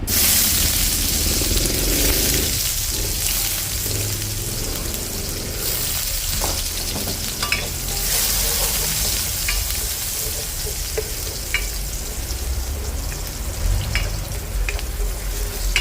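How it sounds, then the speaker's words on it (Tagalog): Garlic sautéing in hot cooking oil for sinigang na lechon, a loud continuous sizzle with faint stirring scrapes and occasional ticks of a utensil, close and unbroken, no talk. "gigisa na tayo, mantika. Hindi lang. Bawang"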